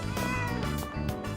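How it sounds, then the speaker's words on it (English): A cat meowing in the video game Persona 3 Reload, loud and close, with a few drawn-out meows in quick succession over a soft background tone. "Was that a cat's meow?"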